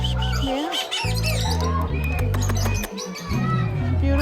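A bird at a bird park gives loud, close squawks and chirps in irregular bursts over a low hum, with people talking nearby.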